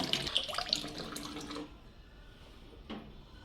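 Water draining out of an Avalon water cooler tank during descaling: a short burst of splashing, trickling flow that cuts off to a quiet hiss, with a faint drip near the end.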